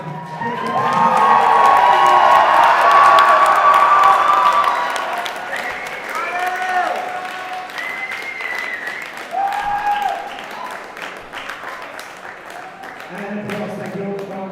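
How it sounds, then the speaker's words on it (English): Audience at a live show finals event bursts into loud applause and cheering with children shouting, peaking early then easing into scattered clapping and voices. "one last big round of applause for the amazing show"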